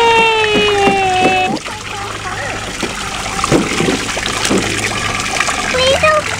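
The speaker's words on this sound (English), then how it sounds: "Please don't splash me." Children splash in a small pool, with bursts of sloshing and dribbling water under almost constant child and adult chatter and a high squeaky toy voice.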